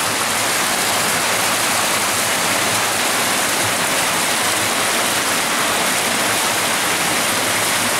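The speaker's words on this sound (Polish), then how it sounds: "która tam kapie po tych ścianach." Water streams down the walls inside the Zielona Góra palm house in a dense, continuous rushing hiss like a small waterfall, loud, close and unbroken, with no voices.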